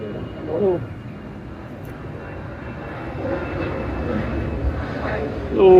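A steady low drone of an airplane passing high overhead in Davao City, with people talking faintly underneath throughout.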